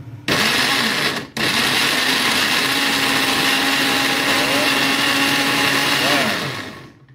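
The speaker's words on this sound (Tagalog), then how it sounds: "Yun, i-blender na po natin siya." Milk and apple whirring in a blender, a loud steady motor hum with a brief pause near the start, then running continuously before winding down at the end, heard alone without talk.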